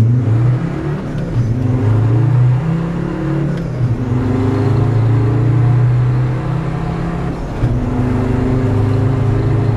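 A Land Rover Defender with a stage 2 remap pulls away hard from a standing start, its engine droning loud and close as it climbs through the revs, with brief dips at the gear changes and no talk.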